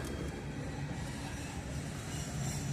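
Conrail freight train of gondola cars rolling past at a steady pace on a hot day, a continuous low rumble of wheels and cars with no break.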